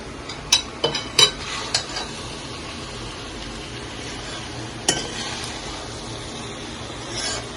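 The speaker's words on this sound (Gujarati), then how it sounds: "લીંબુ નીચવીને મિક્સ કરી દેવાનું." Tawa pulao being mixed in a pan after lemon juice is squeezed in, giving a few sharp spoon scrapes and clinks early on, one more later, over a soft steady sizzle.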